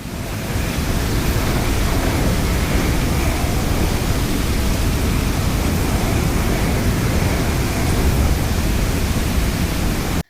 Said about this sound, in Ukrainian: Так, це дуже сильний вітер, буревій.